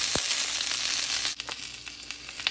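Tomatillos, garlic and jalapenos roast in a hot pan for green salsa, giving a steady close sizzle and crackle with a few sharp pops, quieter after a brief dip partway through.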